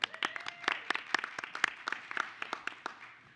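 Brief applause at a school board meeting after a unanimous vote, with a small group clapping. The claps are distinct and fairly sparse, coming in an uneven rhythm of sharp hits that taper off toward the end.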